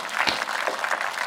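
Audience applause at a patriotic poetry recital, a short dense burst of clapping from a crowd at moderate distance.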